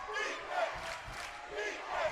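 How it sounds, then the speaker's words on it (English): A basketball crowd at a women's game between the Longhorns and Mustangs roars in surging waves, loud and continuous through the short stretch. "And now the crowd in full throat here in Gordon."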